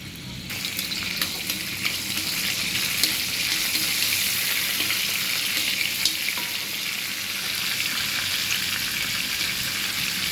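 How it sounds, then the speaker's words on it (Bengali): Black cumin seeds and dried chilies tempering in hot oil make a loud, continuous crackling sizzle that stays dense and even throughout, with faint spatters and no talking. "আমার তেলটা যখন হয়ে আসলো তখন আমি ফোড়নে দিব কালো জিরে আর শুকনো মরিচ।"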